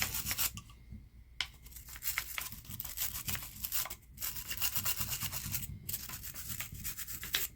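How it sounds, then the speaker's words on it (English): Carbon buildup is scrubbed out of a Ruger Wrangler revolver's frame with the cylinder removed, a close, continuous scratchy brushing rub that pauses briefly a few times. "it's not a bad idea to scrub it out when you have the cylinder off."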